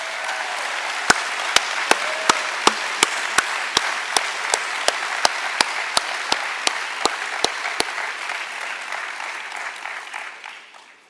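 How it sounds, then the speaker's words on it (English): A conference audience gives sustained applause, a broad wash of many hands. A few sharp, regular close claps stand out over it before the clapping fades out toward the end. "So I think they all deserve another warm round of applause."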